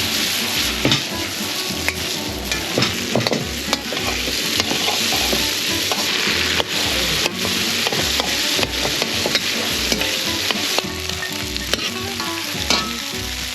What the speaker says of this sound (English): That's your fried rice coming together.